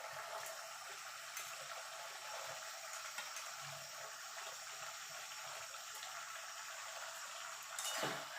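Mutton added to fried spice paste for a Bengali curry sizzles quietly in the pan, a soft steady hiss that carries on evenly, with a brief louder clatter near the end.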